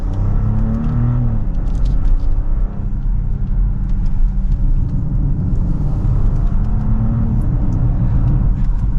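A 2023 BMW X7 xDrive40i pulls away on the road from second gear. Its engine gives a smooth, steady low rumble over tyre and road noise, heard from inside the cabin without a break.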